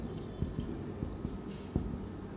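Chalk writing on a board during a chemistry lesson on balancing equations, a steady low rub broken by several light taps and strokes, close and alone without talk.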